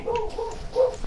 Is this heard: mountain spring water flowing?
no